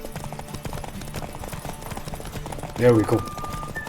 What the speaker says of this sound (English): Don't spare the horse!